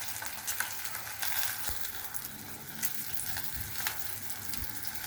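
Small pieces of rui fish tail frying in hot oil for a family rui vorta, a steady dense sizzle with occasional stirring scrapes, close and continuous with no voices.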